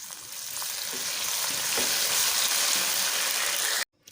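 Tomatoes frying in ghee in a pan for aloo dum biryani, a loud, dense sizzle that builds and holds steady with faint stirring, then cuts off abruptly near the end.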